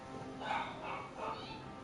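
Dogs bark outside in short muffled bursts, three faint rounds heard from a distance over low background noise.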